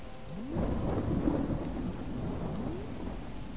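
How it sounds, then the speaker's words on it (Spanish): Thunderstorm in the Animal Crossing video game: steady rain hisses while a deep roll of thunder swells and fades, with low rumbling throughout. "Y encima tronando."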